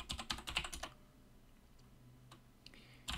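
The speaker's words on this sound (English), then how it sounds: "Sorry for the clicking on the keyboard." A quick run of keyboard key clicks, then a pause and a couple of isolated taps, close and fairly quiet.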